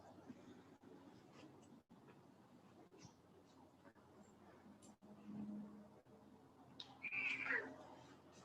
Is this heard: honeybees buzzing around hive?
no